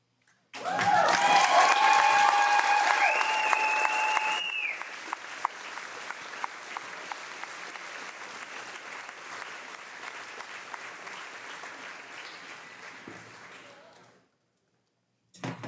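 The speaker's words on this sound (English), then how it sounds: "please join me in one last round of applause for our graduates" Graduation audience at a 2024 high school commencement gives a long, loud round of applause from a large crowd, dense and steady, then thinning to scattered claps before stopping.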